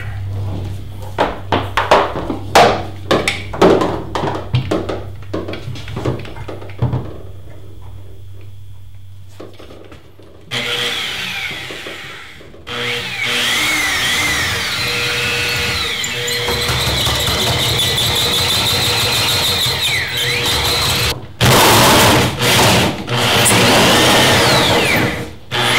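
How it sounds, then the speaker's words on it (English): A power drill bores holes in an old freezer being converted into a wood-drying kiln, whirring for long stretches at close range, biting into material, mixed with clattering knocks and tool handling noises. "So I drill one on each side, and I'm going to put one in the center right here."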